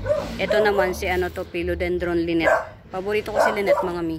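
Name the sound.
dog barking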